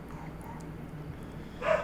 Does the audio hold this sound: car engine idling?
no